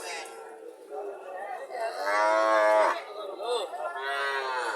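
A desi dairy cow and heifer calf at a cattle market moo in drawn-out, close calls. One long low moo sits in the middle, and quieter chatter from the crowd runs underneath.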